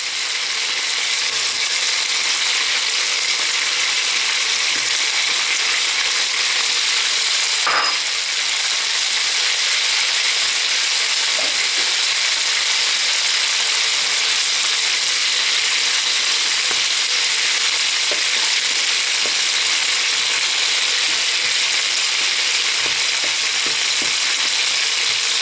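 Chicken pieces fry in a pan with a steady, loud hiss of sizzling oil that runs unbroken throughout, with occasional faint clinks of utensils.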